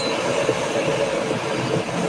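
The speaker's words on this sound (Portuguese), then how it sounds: "Você tem o som do metrô entrando na cena anterior." A subway train arrives as a sound effect in an edited scene, a loud, steady rumble of wheels on rails with faint squealing, continuous throughout with no speech.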